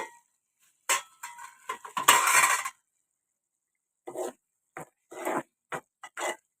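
A lid clatters onto a metal cooking pot of egg and tomato curry in a home kitchen, with a sharp burst of metallic clanks, a rattling settle, then several lighter scattered clinks with quiet gaps between.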